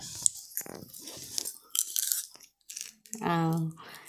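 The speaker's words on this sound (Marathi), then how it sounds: "लाह्या काढून घेतलेल्या आहेत आणि ते खाऊन मी टेस्ट बघणार आहे।" Someone bites and chews crunchy homemade popcorn, with a few close, crisp crunches scattered through the clip and a person talking around them.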